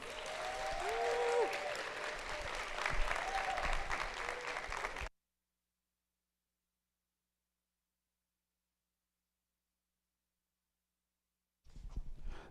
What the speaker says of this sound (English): Can we have a round of applause for Ray Daniels, please?